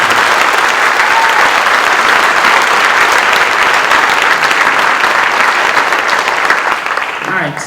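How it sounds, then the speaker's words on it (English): A large audience applauds students after a summer band concert, with dense, steady clapping filling the whole stretch and easing off slightly at the very end. "can we give our students a round of applause for their hard work this week?"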